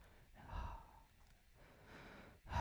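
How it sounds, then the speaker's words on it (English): Close breaths into a held microphone, with soft airy inhales and exhales rising and falling in two or three slow swells over a couple of seconds, no talking. "This is what breathing should sound like."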